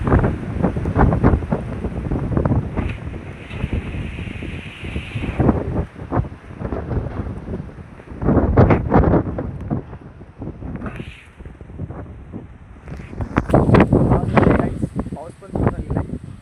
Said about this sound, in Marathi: हवा सुटली आता बघू शकता.